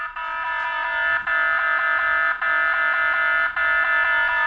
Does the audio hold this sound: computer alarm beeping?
yes